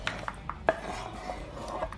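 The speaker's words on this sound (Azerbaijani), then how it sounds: "İndi bunu bir tökürük bir qabın içərisinə." Chopped lemons, three of them cut into small pieces, tipped into a bowl in a home kitchen while making ginger jam, giving a few light clinks and soft knocks against the dish, close and quiet.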